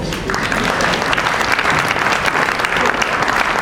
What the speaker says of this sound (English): I would like you to give Fela Abani a round of applause